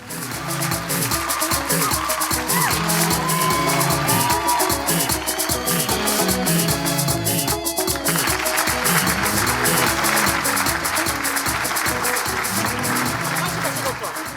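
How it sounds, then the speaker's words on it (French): Audience applauding and cheering to welcome a guest on a Lomé show, a dense continuous wash of clapping and whoops mixed with music, loud and sustained throughout. "Merci d'accueillir en tromble, en applaudissements et en musique, Monsieur le Menteur Ambulant"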